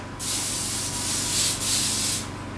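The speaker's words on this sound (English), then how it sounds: "We're going to spray them with a little bit of cooking spray." Two long hissing bursts of cooking spray from an aerosol can onto empanadas, a brief pause between them, close and steady with no talking.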